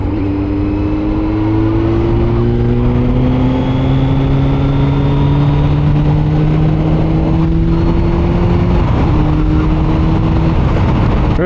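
A 2024 Kawasaki Z900 motorcycle engine roars loudly and close as the rider accelerates, rising revs climbing steadily through gears with wind rush, no talking.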